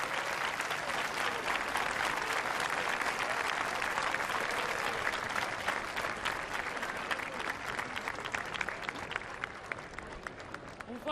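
A crowd applauds steadily after a group's performance at an outdoor havaneres singing festival in Calella de Palafrugell, a dense wash of clapping that continues without pause and slowly fades slightly toward the end.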